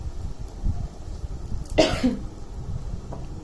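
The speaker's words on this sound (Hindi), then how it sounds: "सॉरी गाइस, मुझे थोड़ा खांसी का प्रॉब्लम है" A single sharp cough bursts out over quiet room noise, with a smaller follow-up sound just after.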